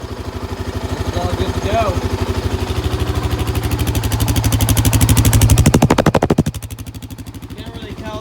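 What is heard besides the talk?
Honda TRX700xx ATV engine idling while warming up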